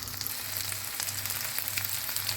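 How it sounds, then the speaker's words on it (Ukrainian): Chicken liver cutlets sizzle and crackle steadily in oil in a pan, close and continuous, with a low hum pulsing underneath; no voices. "Смажу з однієї сторони буквально хвилинку-дві, і коли бачу, що вже підрум'янилося, перевертаю на інший бік."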